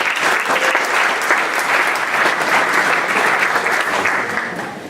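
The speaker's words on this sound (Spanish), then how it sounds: "Y en Daniel recibimos con un fuerte aplauso." Loud, sustained applause from a crowd at a morning summer camp gathering greets a guest, thick continuous clapping from many people that holds steady for several seconds without voices.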